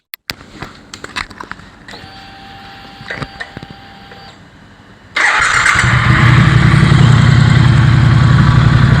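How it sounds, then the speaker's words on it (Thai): Quiet clicks and rustling, then a 2017 Triumph Thruxton R 1200 motorcycle engine cranks and fires, settling into a loud, steady idle. "ผมพามาฟังเสียงเครื่องแล้วก็เสียงท่อกันเลยดีกว่า"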